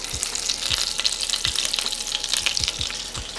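Salmon cakes sizzle steadily in butter in a skillet, a continuous close frying hiss broken by several soft low thumps as pieces are set down or shifted.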